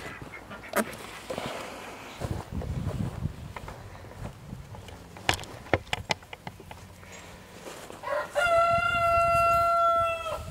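Chickens and ducks shuffle and call inside a DIY mobile coop out on pasture, with scattered clucks and quacks before a rooster lets out a long, loud crow near the end.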